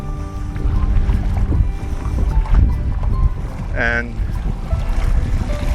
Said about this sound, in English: we've got the wind coming up behind us now, quite strong.